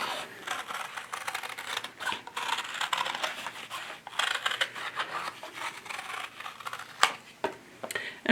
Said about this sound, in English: paper cutting scissors, and I'm going around on the inside of the line that I drew, kind of at an angle